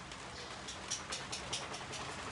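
Light rain begins falling outdoors, a faint, steady hiss with soft irregular patters of drops, continuous and without voices.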